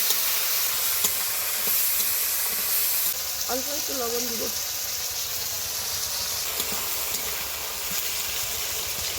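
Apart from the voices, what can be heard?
onion and tomato frying and stirred in hot oil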